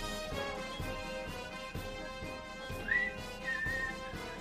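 Someone whistles a melody along with music playing in a radio studio, steady and fairly loud, with rhythmic beats underneath and no talking.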